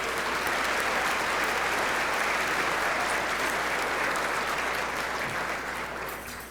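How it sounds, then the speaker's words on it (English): Audience at a Chamber of Commerce State of the Town luncheon giving sustained applause for over 70 expo exhibitors, a steady dense wash of clapping that tapers off at the end. "Let's give them all a round of applause."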